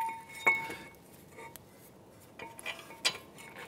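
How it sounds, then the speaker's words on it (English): A metal front brake caliper bracket is set in place on a 2015-2019 Hyundai Sonata, giving a few sparse, sharp metallic clinks and taps against a quiet background. "So we're gonna put our caliper bracket in place."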